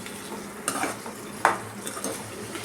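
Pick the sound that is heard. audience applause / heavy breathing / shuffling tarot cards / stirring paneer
stirring paneer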